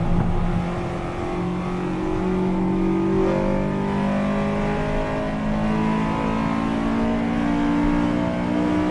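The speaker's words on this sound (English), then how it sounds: "it's very authentically a Honda S2000" A Honda S2000 engine revving hard in Assetto Corsa EVO at the Nürburgring, a loud, steady high-pitched wail that rises and falls through gear changes, heard alone and close.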